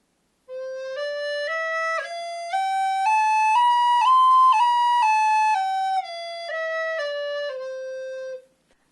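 A recorder steps up a scale and back down using breath alone with no tonguing, the notes sliding into one another without breaks, clear and close, roughly eight seconds of unaccompanied playing.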